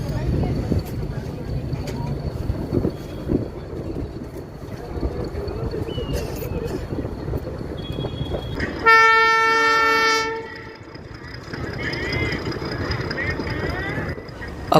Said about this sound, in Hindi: टोकन एक्सचेंज हो चुका है और हमारी ट्रेन अब चलने को तैयार है